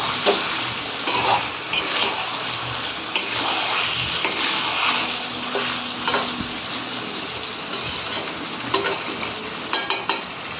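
Chicken curry meat frying in a pan, a loud, continuous close sizzle with intermittent scraping and clinks of a spatula stirring throughout.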